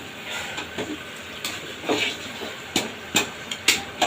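Pomfret and phasa fish pieces go one by one into a pan of cooking potatoes. A steady, close sizzle runs throughout, broken by several sharp clacks and thuds as each piece lands.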